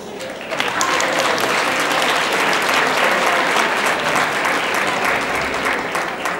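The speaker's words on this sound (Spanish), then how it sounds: "Recibámonos un forte aplauso" Sustained audience applause fills the hall after a school choir's Christmas festival performance, a dense, loud wash of clapping from many hands that holds steady throughout.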